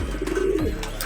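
A racing pigeon gives a single soft, throaty coo at close range, low and rolling, heard from a loft during a derby race.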